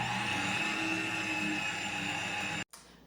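Steady motorized whir of an electric mixer blending apple cinnamon cake batter with cinnamon just added, running continuously at close range and cutting off abruptly near the end.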